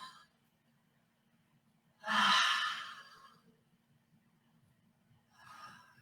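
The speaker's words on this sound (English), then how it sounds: "As you breathe, open your mouth and breathe." One long, audible exhale through an open mouth from a yoga student mid-practice, close and breathy, followed by a quieter second breath out near the end.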